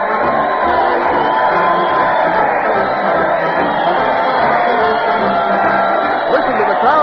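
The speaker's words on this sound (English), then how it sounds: "Listen to the crowd cheer Fred Allen as he leads his weekly parade to the old Town Hall." A crowd cheers and whoops for comedian Fred Allen as he leads a weekly parade to the old Town Hall, heard on a 1936 radio show. The roar is steady and dense, with scattered shouts running throughout.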